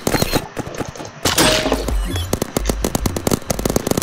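Rapid gunfire from a semi-automatic gun in a first-person shooter video game, a loud run of sharp cracking shots in quick succession with a heavy burst in the middle, with no talking.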